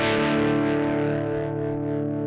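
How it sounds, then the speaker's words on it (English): An electric guitar played through a cheap amplifier gives a sustained, distorted mid-heavy chord that rings steadily and fades slightly, loud and close, with no voice. "With the very cheap ones, it can be that this here I have mid distortion."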